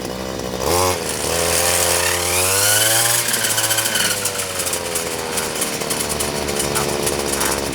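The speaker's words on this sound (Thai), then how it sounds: "ตอนนี้ผมจะลองเร่งเครื่องให้ดูนะฮะ" An MIT-411 brush cutter's small two-stroke engine revs up, holds a loud high whine, then falls back to a rough idle, with close, steady engine noise throughout.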